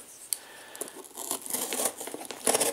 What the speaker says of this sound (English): Got my trusty scissors.